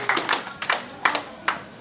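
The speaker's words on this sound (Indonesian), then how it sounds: "Aplaus buat Sobri." A few people clap briefly in a small room during a company gathering, about four short bursts of hand claps that are sparse and close, with no talking.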